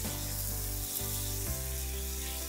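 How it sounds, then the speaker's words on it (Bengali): Chunks of mutton or beef being seared and stirred in a hot pan with spices, giving a continuous dense sizzle with an underlying low hum and no talking. "মাংসগুলোকে এবার মিনিট খানেক ভালো করে কষিয়ে নিচ্ছি ফ্লেভারটাকে আরও একটু স্ট্রং করার জন্য।"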